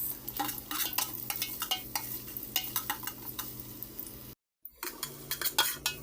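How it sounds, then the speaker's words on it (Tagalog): Ginger stirred in hot cooking oil in a pan for chicken with shrimp paste, with repeated clinks and scrapes of a utensil over a steady sizzle, briefly cut by a short silence near the end. "Paglagay ng mantika. At isunod na rin ang ating luya. Mikos, mikos."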